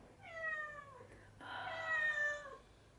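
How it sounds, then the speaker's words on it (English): A pet cat gives two drawn-out meows close to the microphone, the second longer and louder, in a quiet room with no talking. "Oh my goodness, this cat."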